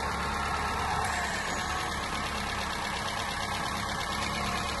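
A repaired Peugeot DS5 with a THP engine idles steadily in a continuous, even mechanical drone, close and moderately loud, with no talk over it.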